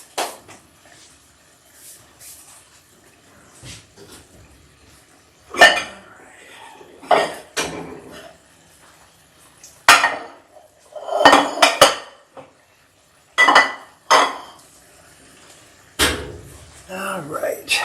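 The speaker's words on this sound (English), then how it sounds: "And we get some bowls out." Bowls and dishes are taken out to serve a chicken stroganoff meal, with loud clattering clinks and knocks of crockery in irregular bursts, close by, while a person talks between them.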